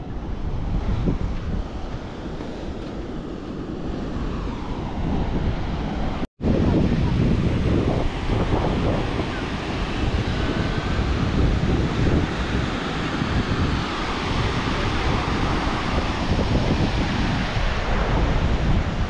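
Sea waves at Bhatye beach near Ratnagiri wash in with a continuous, loud surf roar, heavily mixed with wind buffeting the microphone, broken only by a brief cut partway through.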